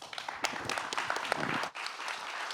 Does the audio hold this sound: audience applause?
yes